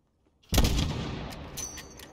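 A single sharp gunshot from a sniper rifle fired at a target 600 meters away in a Call of Duty Modern Warfare campaign mission, bursting after a brief silence and ringing out in a long rolling echo.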